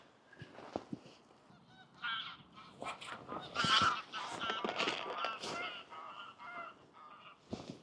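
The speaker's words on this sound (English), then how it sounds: "Geese everywhere today." Geese honk repeatedly beside a fishing lake during a carp feeder match, a busy overlapping chorus of harsh calls at moderate distance that builds and fades over steady outdoor background noise.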